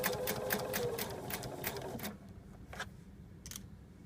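A sewing machine stitches fabric for a circular placemat, with a fast, steady run of needle clicks for about two seconds, then slower, scattered stitches as it eases off, close and fairly quiet.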